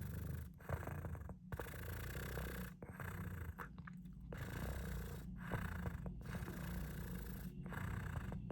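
Slow, rhythmic breathing that imitates a cat's purr, steady rumbling exhalations broken by brief pauses, close and fairly quiet.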